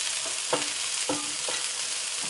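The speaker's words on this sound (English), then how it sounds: "just keep stirring everything so that it doesn't burn" Vegetables with carrots stirred as they fry in a pan over medium-high heat: a loud, constant sizzle broken by a few rhythmic scraping strokes of the spoon, close up, with no talking.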